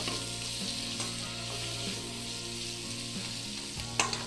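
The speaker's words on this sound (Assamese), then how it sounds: "এইবাৰ কেঁচা জলকীয়া, জিৰা আৰু জলকীয়া গুড়াখিনি ইয়াতে দি দিম।" Green chillies, cumin and chilli powder fry in a pan with a constant loud sizzle, a few stirring scrapes and a short spatter near the end, with no talking.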